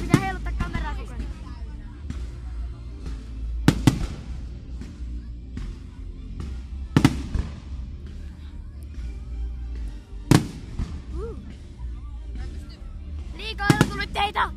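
Fireworks at the closing celebration of Tykkimäki amusement park: a few sharp, loud bursts spaced several seconds apart, each ringing out over a steady crowd murmur and nearby chatter.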